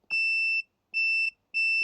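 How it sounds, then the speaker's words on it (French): A multimeter in continuity mode emitting three clean electronic beeps, each about half a second long with short gaps, close and fairly faint, as wires on a Parkside cordless hammer drill are tested. "on se met en mode bip, comme ça."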